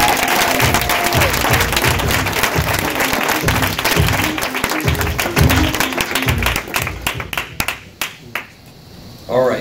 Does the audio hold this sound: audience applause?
yes